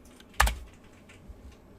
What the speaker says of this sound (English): So you type in the search bar